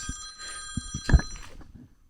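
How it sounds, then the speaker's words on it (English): A telephone rings with a sustained electronic bell tone over low background noise, joined by a few soft knocks and thumps, then fades out. "These guys calling over. I gotta turn off my phone."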